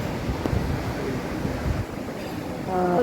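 Sea waves wash in continuously beside a seaside eatery at Kovalam, a broad surf roar mixed with wind buffeting the microphone, with a brief voice near the end.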